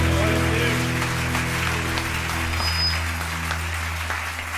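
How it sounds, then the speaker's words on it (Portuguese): Church congregation applauds after a hymn, a sustained steady wash of clapping over a low organ-like hum and lingering room tone. "Você pode aplaudir a Ele que é digno."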